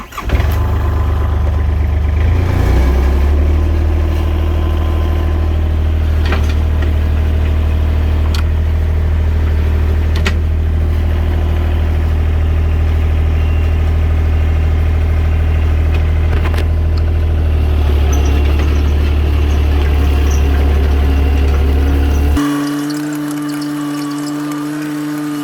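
Small engine on the Takahoochie machine starting and running with a deep steady low rumble, close and loud, then dropping to a lighter idle near the end.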